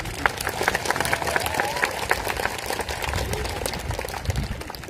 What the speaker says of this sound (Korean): 네, 박수 한번 크게 쳐주세요.